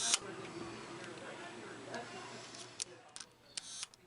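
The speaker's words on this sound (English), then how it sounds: "You can see the detent click, and the cams are all seated and completely, and the shutter is working very smoothly." A Copal leaf shutter on a repaired old camera firing, a few sharp small mechanical clicks close up, mostly in the latter half and spaced irregularly, with someone talking quietly.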